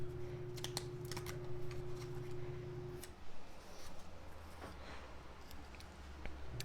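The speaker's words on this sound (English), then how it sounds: "I'm going to cut out this one on some cardstock backing" Scissors snip through cardstock backing for a handmade card, a run of crisp close cuts in quick uneven bursts over a faint steady hum that stops partway through.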